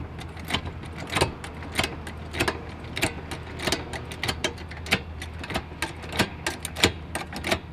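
A car jack that feels rough ratchets a car with a flat tire upward, producing evenly spaced sharp metallic clicks at a steady rhythm over a low background rumble, close and clear.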